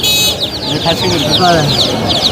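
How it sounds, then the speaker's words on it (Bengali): Layer hens at the Mirpur-1 poultry market cluck and squawk in repeated short bursts close by, while people talk over the birds. "এটা কি মুরগি কি মুরগি এটা লেয়ার মুরগি লেয়ার মুরগি"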